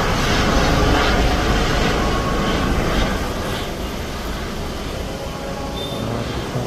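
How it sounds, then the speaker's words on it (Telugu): A survey helicopter flies over the Krishna river, its engine and rotors droning loudly and continuously overhead, easing slightly in level partway through, with no talking. "సర్వే చేయడానికి హెలికాప్టర్ అయితే వచ్చేసింది"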